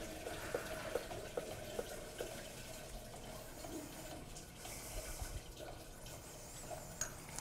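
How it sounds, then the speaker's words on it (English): Water rushes through the supply control valve of a Viking electrically operated deluge fire sprinkler system, a steady hiss-like flow with faint regular ticks and clanks, and no voices. "we can open the water supply control valve the remainder of the way"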